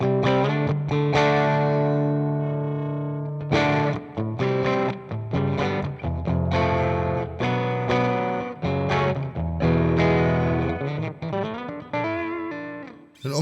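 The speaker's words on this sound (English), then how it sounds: "you got your dry guitar tone with some weird sort of distortion fuzziness underneath it" An electric guitar plays chords and riffs through a gritty, warbling ring modulator fuzz effect on a Sonicake Matribox, like a fuzz with a dying battery, with pauses between phrases.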